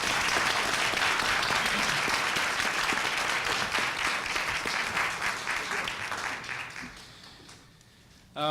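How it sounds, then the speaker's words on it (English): An audience at an NAACP branch panel evening applauds as a speaker comes forward, steady dense clapping that gradually thins and fades out near the end, followed by a brief onset of sound. "Give him a round of applause as he comes forward"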